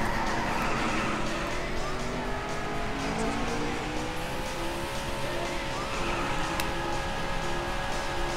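Continuous engine roar with sliding, whining tones as a car drifts and skids in a PS3 racing game, loud and steady throughout.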